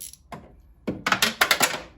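A small metal bolt clatters and rattles down inside a Jeep Patriot car door panel, a quick burst of several sharp knocks and taps after a faint first clink.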